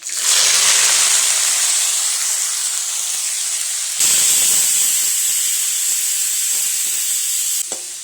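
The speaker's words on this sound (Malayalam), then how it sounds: "ചെറിയ ഉള്ളിയാണ് ഇട്ട് കൊടുത്തേക്കുന്നത്." Shallots are dropped into hot oil with mustard seeds and dried chillies for a Kerala-style duck curry, setting off a loud, steady sizzling hiss that briefly surges and continues without pause.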